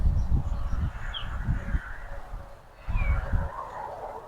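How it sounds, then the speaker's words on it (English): A big crow calls near a homestead chicken coop: a few harsh, drawn-out cries at moderate distance over low thumping handling noises. "There's the big crow right there."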